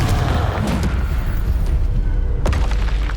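A Confringo blasting spell goes off in Hogwarts Legacy, a loud booming blast with a sharp crack near the end over dense, continuous game rumble.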